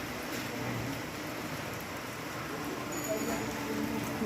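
Heavy rain from a nor'wester thunderstorm pours in a steady, dense hiss that never lets up, close and fairly loud throughout.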